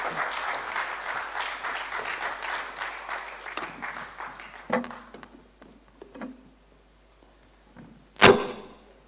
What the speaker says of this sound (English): Can we have a big round of applause for the panel?